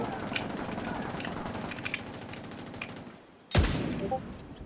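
Gunfire in the Manhunt Hornet video game, a rapid rattling of distant shots running steadily, then a single loud close blast with a short ringing tail.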